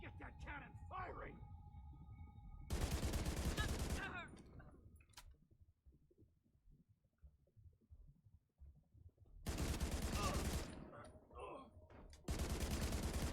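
Rifle gunfire in The Division 2 video game: two loud, dense bursts of rapid shots, each lasting a second or more, separated by quieter game ambience, with a third burst starting at the end.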